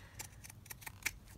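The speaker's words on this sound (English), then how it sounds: "So I'm just trimming it down with my pinking scissors" Pinking scissors snip through a bubble wrap envelope journal cover in a quick run of sharp, close, quiet cuts, with no voice.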